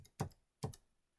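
Two crisp keystrokes on a computer keyboard, close and quiet, spaced about half a second apart with near silence between them.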